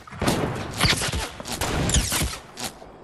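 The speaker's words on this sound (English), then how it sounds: "Did you really shoot me in the head?" Gunfire in Fortnite during a scrim, a burst of rapid sharp shots and thuds clustered over a few seconds, fairly loud and close.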